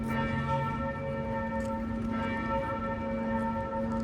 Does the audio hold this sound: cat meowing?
no